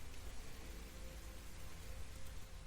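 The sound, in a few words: rain ambience effect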